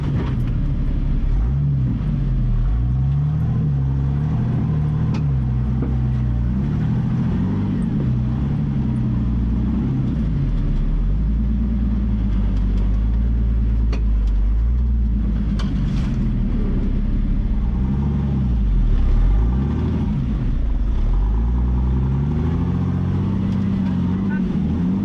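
An off-road vehicle engine rumbles steadily as it crawls up a rocky V-notch trail at Sand Dune Gulch near Vernal, Utah, with low revving surges throughout and no talk over it.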